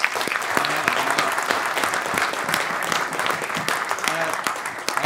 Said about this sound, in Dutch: Geef ze een hartelijk applaus, Boy Scholten en Willem Daniels!